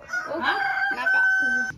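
A rooster on a village farm crows once, loud and near, in a long drawn-out call that rises and then holds steady before breaking off.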